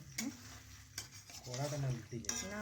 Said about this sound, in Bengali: চিকেন এখন মশলার সাথে ভালোভাবে নাড়াচাড়া করে মিশিয়ে নেব।